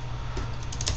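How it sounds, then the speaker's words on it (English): Rapid typing on a new computer keyboard, a steady stream of close, soft key clicks over a low hum, with no talking. "I'm using a new keyboard today"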